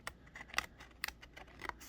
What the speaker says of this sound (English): So I'm just cutting around where I made that score mark.